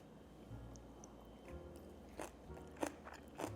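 Someone takes a faint, close bite of an oil-free carrot sesame salad and chews it, making a few soft crunches spread over a few seconds with nothing else heard.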